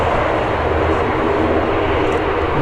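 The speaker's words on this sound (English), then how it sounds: "another one going to Holland. Transavia though, that's that Neo we saw before." A Transavia Airbus A320neo jet at Dublin Airport roars loudly and steadily throughout, a broad continuous engine rumble with no talk.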